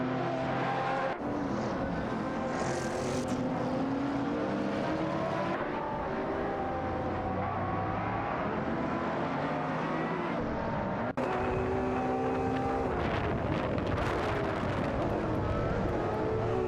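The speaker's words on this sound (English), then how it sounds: "Midnight Black for 2-3 overtakes Neo Texan, V4L3NA for 3rd" Supercars racing around the Kyalami circuit in a video game, with continuous layered engine roars, shifting revs and occasional tire squeal from several nearby cars, abrupt cuts between views.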